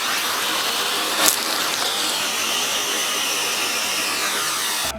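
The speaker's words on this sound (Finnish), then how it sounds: "Mulla on ihan sairaan tehokas tapa imuroida kaikkea, mitä ei pidä imuroida." A household vacuum cleaner whines steadily at close range for about five seconds, with a brief sharper suck or clatter near the start, then cuts off at the end, with no talking.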